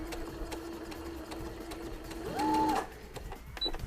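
A sewing machine fitted with a piping foot backstitches along piping, a steady close mechanical whir running through, rising briefly to a louder, higher burst near the end before dropping back.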